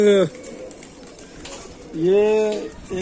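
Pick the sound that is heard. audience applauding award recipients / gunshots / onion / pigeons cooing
pigeons cooing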